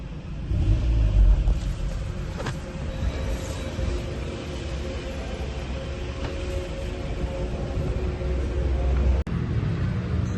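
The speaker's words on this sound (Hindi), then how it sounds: "गाड़ी नॉर्मल जो है स्टार्ट भी हो रही है।" A Hyundai Sonata engine, one that had a no-crank, no-start electrical fault, cranks and settles into a steady idle, a continuous low rumble with a brief dip near the end.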